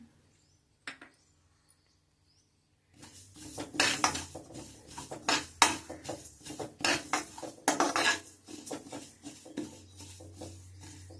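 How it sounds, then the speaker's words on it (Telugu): Sesame seeds are dry-roasted in a pan without oil, producing a run of close, clattering scrapes and light metallic rattles as they are stirred, starting after a near-silent pause with a single early knock. "ఆయిల్ వేయకుండా వేయించుకోవాలండి, దారగా వేయించుకోవాలి."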